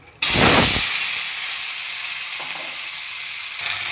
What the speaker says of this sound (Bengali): ফোড়নটা হয়ে গেছে, এবার সবজিগুলোকে দিয়ে দেবো